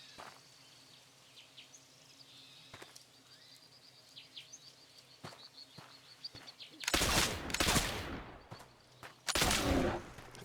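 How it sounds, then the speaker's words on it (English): Rifle shots aimed at a bear in the Oregon Trail video game ring out as two loud, harsh bursts after a quieter stretch. Faint bird chirps and a few light clicks fill the background. "Three shots for a bear"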